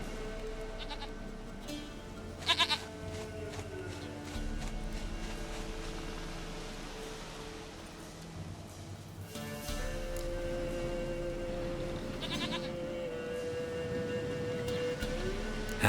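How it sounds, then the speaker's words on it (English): A goat bleats in The Witcher 3 video game, a few wavering cries rising above a steady, droning layer of background game tones and music. "Goat of mine, dearest, sweetest goat."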